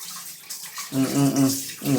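Tap water runs into a bathtub while a pet cat is being bathed, a close splashing flow that swells and breaks into uneven gushes in the second half.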